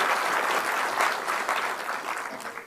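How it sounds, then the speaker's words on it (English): An audience applauding a speaker being introduced at a talk, a brief, fairly soft wash of many hands clapping that tapers off toward the end. "let's give a big round of applause to Professor BMHegde"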